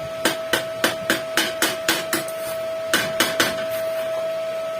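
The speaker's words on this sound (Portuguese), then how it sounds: "com o martelinho aqui, você faz assim, ó" A small hammer chips slag off a fresh weld bead in sharp metallic taps, about a dozen strikes in two quick bursts with a brief pause between, close and clear over a steady electrical hum.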